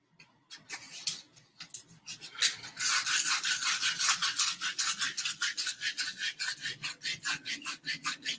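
Sandpaper being rubbed on a surface, producing a loud run of quick, rhythmic rasping strokes that start sparse and grow steady and continuous.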